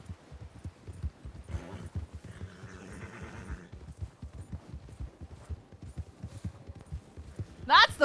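Horse in a Red Dead Redemption roleplay game: hoofbeats clop steadily under close, continuous talk, with a sharp whinny bursting out near the end.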